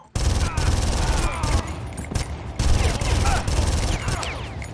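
Loud, continuous gunfire from the Far Cry 1 video game, rapid automatic bursts packed close together with brief gaps, heavy and up front throughout.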